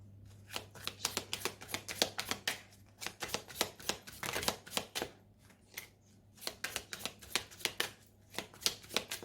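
Oracle cards are cut and shuffled close by, giving quick runs of papery riffles and slaps in uneven bursts over a faint steady hum, with no voices.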